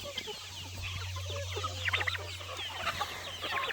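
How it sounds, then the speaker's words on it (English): Rare breed chickens cluck and murmur close by in a busy flock, their short, overlapping calls running over a steady low hum. "We got 60 unique rare birds from all over the world."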